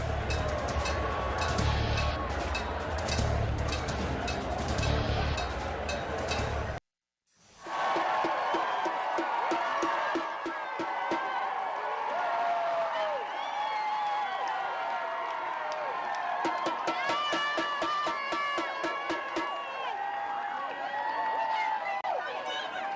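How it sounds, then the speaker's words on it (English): A large, enthusiastic crowd out in the street in Midtown Atlanta, cheering steadily with whoops and scattered clapping, with a short break in the middle before the dense roar resumes. "A very, very enthusiastic, exuberant crowd there in Midtown Atlanta."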